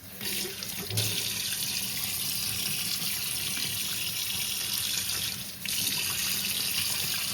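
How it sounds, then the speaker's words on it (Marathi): Tap water runs steadily into a pan in a home kitchen, a continuous loud hiss and splash with a brief change near the end, no voices. "याला मी थोडंसं पाणी टाकते"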